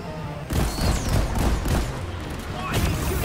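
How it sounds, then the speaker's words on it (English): Rapid weapon fire in the video game Deep Rock Galactic, a dense, loud clatter of overlapping shots sustained for several seconds with game effects mixed in. "Why are you shooting at me?"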